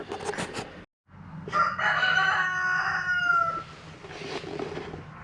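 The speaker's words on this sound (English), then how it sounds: "Chickens are being loud." Backyard chickens and a rooster, with a loud, close rooster crow in the middle, preceded and followed by clucking and squawks from other hens.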